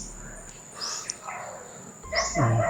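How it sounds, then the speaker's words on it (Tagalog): Dogs bark in scattered bursts, fairly distant at first and then closer, over a steady high-pitched insect drone. "Sobrang ingay na po ng mga aso mga tol."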